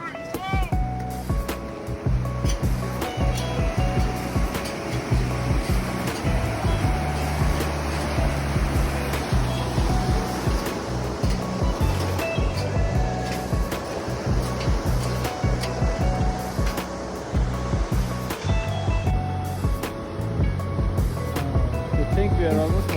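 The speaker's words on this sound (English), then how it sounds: "So this is a river which we need to cross" A Himalayan river rushes steadily on the Annapurna Base Camp trek near Deurali, a continuous loud wash of water with people talking over it.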